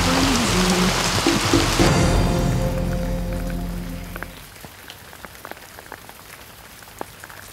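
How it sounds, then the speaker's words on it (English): Heavy rain pours steadily, loud and close at first, then eases into lighter scattered drops pattering on a surface. "the breeze kicks up and the rain comes down"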